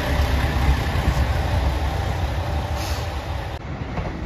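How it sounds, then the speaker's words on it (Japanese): A white Anpanman limited express diesel railcar rolls past at close range, a steady loud rumble of engine and wheels that holds throughout with no voices. "白いアンパンマン機動車です"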